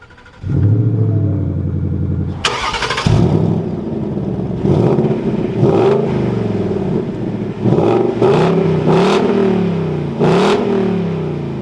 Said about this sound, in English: with my foot on the brake and the clutch, let's fire this up